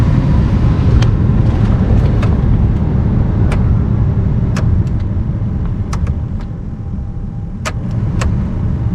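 Heater blower fan in a 1999-2007 GMC/Chevy truck running at full strength, a steady broad rushing whoosh inside the cab, with scattered faint clicks and ticks over it and no talk.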